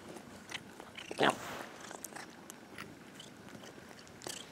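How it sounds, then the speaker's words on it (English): A cat bites and chews a salmon-flavoured treat stick, making a few soft, close crunching bites with a brief sharper burst near the middle, quiet overall with no talking. "We have a salmon tasty stick. Does it smell good? Do you want to chew it?"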